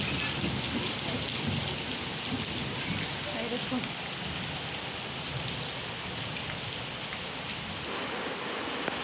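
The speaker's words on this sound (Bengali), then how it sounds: "এই দেখুন বৃষ্টিটা দেখে খুব মনে আনন্দ হচ্ছে" Steady rain pours down beside a pond, a dense, even hiss of drops on surfaces that continues without a break, close and moderately loud.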